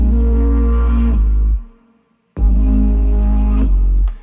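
A synth bass and synth pad hold sustained chords, loud and full, cutting off into near silence for about a second before the sustained sound returns.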